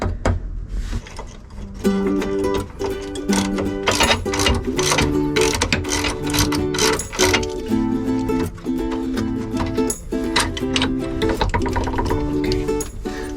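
A wrench works loose a bolt on the rudder collar of a sailboat, with steady rhythmic metallic clicking and ratcheting that continues loudly for the whole stretch, close by.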